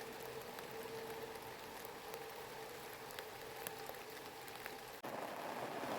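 Rain patters steadily on a greenhouse, a soft, dense hiss of drops that holds evenly throughout with a slight shift near the end.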